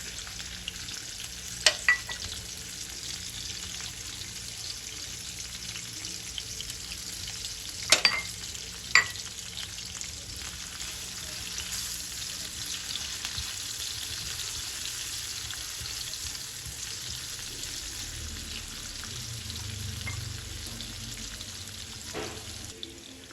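Garlic and onion fry in a pan with a long, steady, fairly quiet sizzle, punctuated by a few sharp utensil clacks and scrapes, close by and with no talking.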